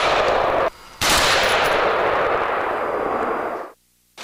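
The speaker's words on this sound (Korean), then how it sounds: "안정된 자세로 적을 가정한 목표물을 향해 실사격에 나섭니다." Army live-fire rifle shooting at mock enemy targets on a range: a loud, sharp gunshot report with a long ringing tail, preceded by a shorter blast and sustained roar that cuts off abruptly near the end, no voices.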